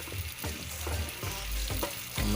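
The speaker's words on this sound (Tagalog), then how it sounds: "Pirituhin muna yung tokwa." Cubes of tofu sizzle in hot oil in a pan while a utensil stirs them, steady frying hiss broken by several knocking scrapes of stirring, close and fairly quiet.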